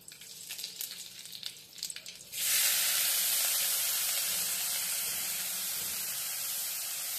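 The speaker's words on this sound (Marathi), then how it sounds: "आपण त्याच्यामध्ये कांदा टाकून घेऊया" Chopped onion hits hot oil with popped mustard seeds, bursting into a loud, sustained hiss that stays steady, following a quieter stretch of crackling oil.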